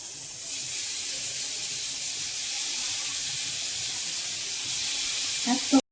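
Marinated paneer tikka fries in a hot pan, giving a loud, steady, close sizzle and hiss that holds evenly before a brief clatter at the very end.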